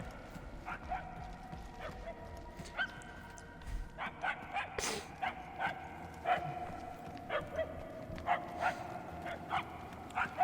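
A puppy barks and yips repeatedly in the Guardians of the Galaxy video game, short sharp calls in an irregular rhythm over a quiet game backdrop, no talk.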